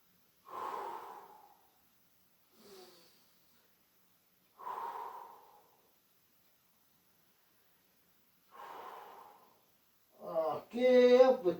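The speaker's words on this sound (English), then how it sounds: "Nice deep breathing in and out the body." Slow, deep breaths in and out during a morning wake-up stretch, three broad breathy exhales spaced evenly apart with quiet gaps between, close and clear, followed by a short sharper snort-like burst at the end.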